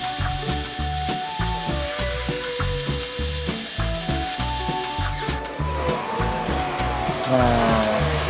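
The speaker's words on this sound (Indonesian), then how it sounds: "Jadi saya akan miling lagi" Milling a carbide lathe tool bit gives a loud, steady mechanical grind with a rapid, regular rhythmic chatter throughout, close and continuous, the tone shifting slightly near the end.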